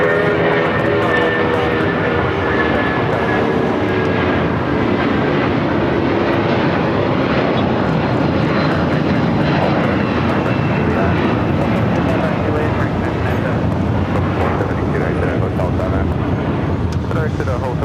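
A plane takes off from runway 25 right at Los Angeles airport, its engines roaring loud and steady for the whole stretch, with radio talk over the top.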